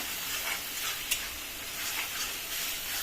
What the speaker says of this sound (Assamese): পানী দি পেলাই ভালকৈ লৰাই